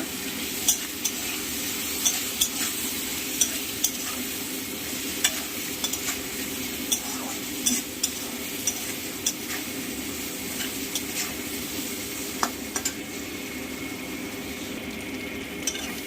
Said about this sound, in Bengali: মূলো ভাজা হয়ে গেছে